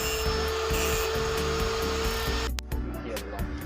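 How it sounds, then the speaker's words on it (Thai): An angle grinder smoothing a contact surface on a Yamaha RXZ135 motorcycle, a loud, close, continuous whine with a pulsing low rumble that cuts off abruptly, then fades into quieter spinning-down noise. "เอาทำงานด้วยเครื่องตัดเครื่องเจียร์ต้องระวังนะ ตอนนี้ทำให้หน้าสัมผัสมันเรียบเท่ากัน"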